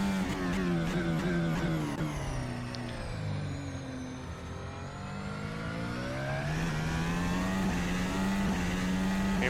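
Mercedes W11 Formula 1 car roaring in a racing video game along the main straight, a loud continuous high-revving engine note climbing through gears with brief dips at shifts.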